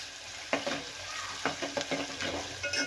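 Ginger-garlic paste sautéed in hot oil alongside already-browned onions for a mixed eggplant, pea and potato vegetable dish: a continuous close sizzle punctuated by several sharp spatula stirs and scrapes against the pan.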